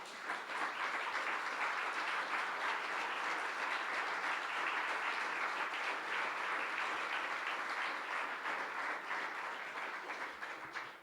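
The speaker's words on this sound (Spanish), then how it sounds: "Dale un aplauso al Señor." A church congregation claps steadily for over ten seconds, an even, dense roar of many hands filling the room without a break and tapering slightly at the end.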